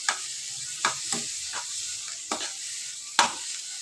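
Onion and garlic frying on high flame in a pan, a bright hissing sizzle broken by about seven sharp scrapes of the stirring spoon, close by, with no talking.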